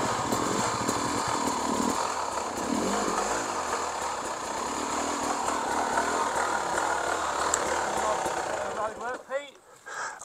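A Beta X two-stroke enduro motorcycle engine runs loud and close on a road, with a busy, raspy buzz that holds steady before dropping away near the end, with voices over it.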